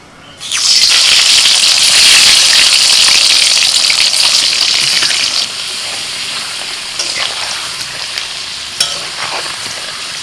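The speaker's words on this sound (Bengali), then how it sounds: "ওই বেরেস্তা ভাজা তেলের মধ্যে আমি আলুটা ভেজে নেব" Potatoes hit hot oil left from frying onions for chicken dum biryani with a loud burst of sizzling that settles into a steady, softer frying crackle.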